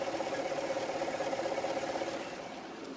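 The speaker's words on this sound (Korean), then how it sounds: "엔진 소음 먼저 들려드리면은" A smooth V8 engine in a fourth-generation Cadillac Escalade idles quietly and steadily, a low even hum that softens slightly toward the end, with no voices.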